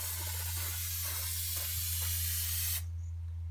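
An aerosol spray can sprays coating around the seams of a car body under restoration, a steady close hiss lasting nearly three seconds before cutting off abruptly, leaving near silence.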